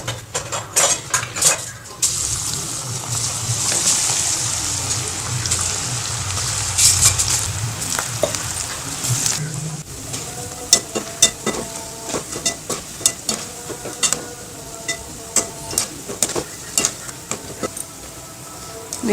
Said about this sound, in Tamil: இப்போ எண்ணெயில் பொரிச்சு எடுக்கலாம்.